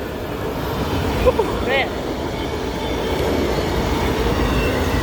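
A train rolling through on tracks along a rural road in Tennessee on a rainy day, a continuous loud rumble with a brief high wheel squeal, while a man exhales and mutters briefly.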